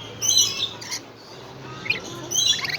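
Zoo birds squawking at a feeding station at the Dallas Zoo, several harsh bursts and chirps in irregular clusters, fairly close, with no talk over them.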